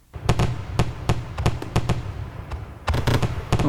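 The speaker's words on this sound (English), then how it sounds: "I want to give myself some fireworks" Fireworks popping in a rapid, uneven series of sharp bangs and crackles, loud and fairly close, with a dense burst of several quick blasts toward the end.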